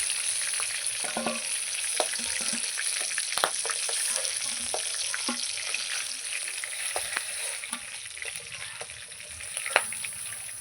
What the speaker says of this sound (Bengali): এই যে এই মাছগুলো ভাজা হয়ে গেছে